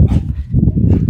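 A dog barks repeatedly in short, loud bursts, fairly close, with a rough, low tone and no voices over it, at a holiday park caravan site.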